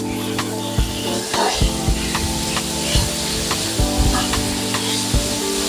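Minced chicken sizzles in a pan of Filipino sweet-style spaghetti sauce while a spoon stirs it, a steady frying hiss with repeated soft scraping strokes close by, no talking.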